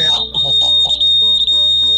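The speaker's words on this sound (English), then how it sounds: "You can see the LED is glowing and buzzer starts to blow." An Arduino-based PIR night security light sounds its buzzer with a continuous high-pitched electronic tone, steady and loud throughout while someone talks over it.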